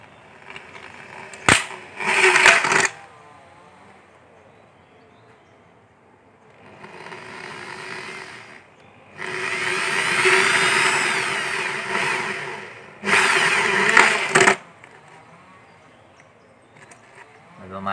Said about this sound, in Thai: เจาะรูเพื่อว่าจะมัดกับพัดลมนะครับเจาะรูก่อน